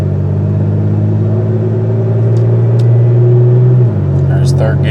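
A Pontiac Grand Prix with a rebuilt 4T65E automatic transmission cruises with a loud, steady engine drone, then shifts near the end as the pitch drops, on a Michigan road in spring; no speech over it.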